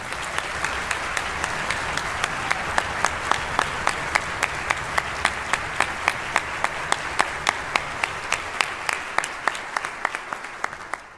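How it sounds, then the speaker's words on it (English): Audience applause at the 2024 Missouri All State Band concert, steady and evenly paced clapping from a large crowd that holds for about ten seconds before fading out. "Can we give everybody a round of applause?"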